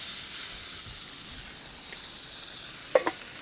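Ribeye steak searing on a griddle heated to 600 degrees: a steady, hissing sizzle fills the scene, with a couple of brief clicks near the end and no talking.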